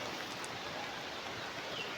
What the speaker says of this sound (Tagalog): lalo pong lumalakas yung ulan